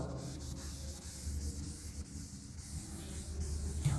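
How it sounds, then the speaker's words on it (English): A board is rubbed clean of writing in a chemistry lesson, producing a soft, continuous scrubbing and swishing with slight uneven strokes, faint and close, with no one speaking. "I'm going to rub this one."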